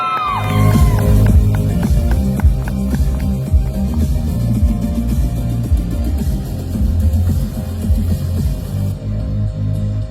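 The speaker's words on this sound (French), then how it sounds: "On les applaudit bien fort." A live audience at the Paris Manga convention stage cheers and whoops loudly for a performing duo, a dense, steady crowd roar with scattered shouts that holds across the whole stretch.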